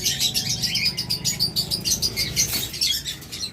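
Small pet birds kept as breeding pairs chirp busily and continuously nearby, overlapping high tweets in a rapid, chattering flurry.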